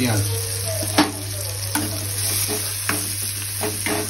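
Onions fry in a pan for mutter paneer with a steady close sizzle, broken by several sharp spatula scrapes and taps on the pan as they are stirred, and a low constant hum running underneath.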